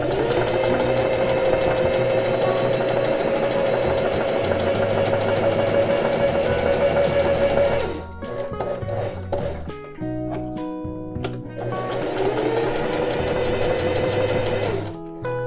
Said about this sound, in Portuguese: agora a gente começa a fazer o acabamento no zigue-zague. Faço um retrocesso.